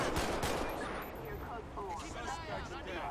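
Gunfire from a suspect in a GTA V LSPDFR police patrol, a rapid run of shots mixed with game noise and talk throughout, loud and close.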